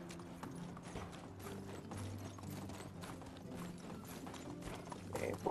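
Hooves of a horse in the medieval survival game Medieval Dynasty pound in a steady, quick clip-clop gallop, crisp and continuous throughout, with no talking over it.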